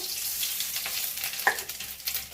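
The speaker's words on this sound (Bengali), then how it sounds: "5 ফোড়নটা দিয়ে একটু ভাজা ভাজা করে।" Panch phoron sizzles loudly in hot oil in a pan where peanuts have just been fried, a dense continuous crackle with a brief sharper pop midway.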